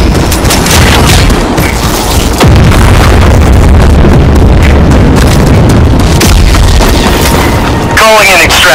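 Heavy booms and explosive blasts mixed with gunfire during a Helldivers 2 battle as a fortification stratagem lands, loud and continuous, with crackling impacts throughout.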